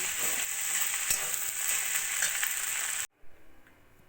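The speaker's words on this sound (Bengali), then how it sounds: "বড়িটা মিশিয়ে নিয়ে আমি গ্যাসটা বন্ধ করে দেবো" Fried lentil dumplings stirred into radish greens frying in a pan on a gas stove give a steady hiss and sizzle with light scraping, then cut off abruptly to quiet.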